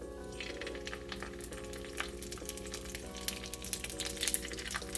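Two tablespoons of crab paste sizzling in a pan for seafood palabok: a continuous soft crackling fry with light stirring underneath, fairly quiet and steady throughout, no talking.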